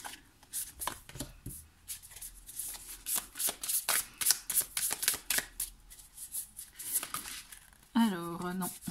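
Tarot cards shuffled by hand for an astrology reading, a close run of quick papery riffles and flicks in rapid bursts, with a voice speaking briefly near the end.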